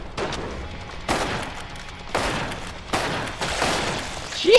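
Gunfire in the video game Killing Floor 2 comes as repeated heavy bursts of shots about once a second, loud and close, with no voices over it.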